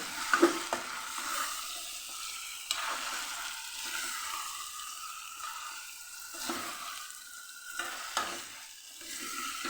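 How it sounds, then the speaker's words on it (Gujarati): Drumstick pieces and potatoes coated in spices sauté in a pan over a medium gas flame, with soft steady sizzling and repeated stirring scrapes, a few sharper clinks and spoon knocks standing out near the start and middle. "રીંગો અને બટેકાને સરસ આપણે મસાલામાં કોટ થઈ જાય ત્યાં સુધી એને આપણે સાતળવાના"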